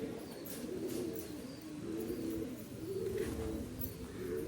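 A yellow-eyed father pigeon and his chicks in a home loft make soft, low, rolling coos that swell and fade in a continuous murmur over a faint hiss, with no talking.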